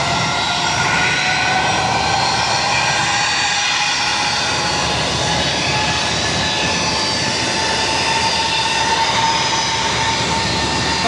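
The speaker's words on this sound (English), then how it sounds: "We also have Japan Airlines Flight 7 lined up, ready to go, and now starting takeoff roll" A Japan Airlines jet begins its takeoff roll at Boston Logan, a loud, steady engine roar that holds throughout with no voices.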